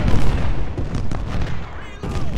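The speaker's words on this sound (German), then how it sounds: "Dann gucken wir mal, dass mit den Kanonen jetzt immer gezielte Angriffe führen." Cannon artillery fire in the Civil War strategy video game Ultimate General: Civil War, a dense run of booming blasts rolling one into the next over steady low rumble, with sharper reports near the middle and end.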